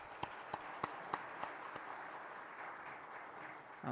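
A church congregation claps in celebration: a few distinct, fairly quiet claps in a slow rhythm at first, then fading into soft room noise.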